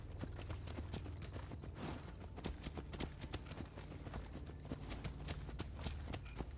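Horse hooves in Assassin's Creed Odyssey clatter in a fast, steady clip-clop rhythm of a galloping or trotting mount, continuous and moderately close over a low ambient bed.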